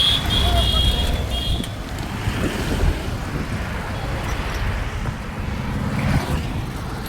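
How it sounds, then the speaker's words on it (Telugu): Heavy car traffic on a forest road during the Medaram jathara pilgrimage, a steady loud rumble and whoosh of vehicles passing close by, with wind buffeting the microphone throughout. "Heavy traffic."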